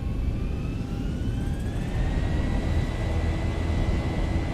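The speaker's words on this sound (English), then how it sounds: "Takeoff power set." Boeing 737-800 engines spool up to takeoff power in X-Plane 11, a loud, steady roar with rising whining tones that build and hold, with no voices.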